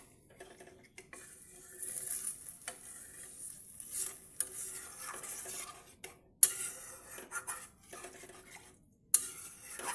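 A fish and potato mixture being stirred in a pan, with repeated scraping and clinking strokes over a soft background sizzle, close and moderately loud with brief pauses.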